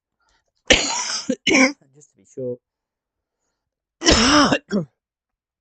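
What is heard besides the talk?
coughing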